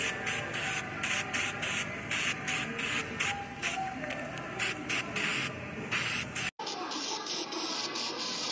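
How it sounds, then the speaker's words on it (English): Weld-through primer hisses from an aerosol spray can in a run of short repeated bursts, applied where spot welds will go on a Ford F-150 bedside replacement, before a sharp break and a quieter stretch. "Some weld through primer where all my spot welding is going to be."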